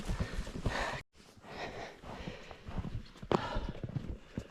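Horse hooves clop on the ground at a walking pace amid rustling backcountry brush, with a short gap of near silence and a sharper crack later on.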